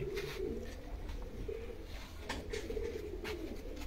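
Red-eyed pigeons coo steadily and continuously at close range, a low rolling murmur that lasts throughout, with a few brighter bird calls rising over it.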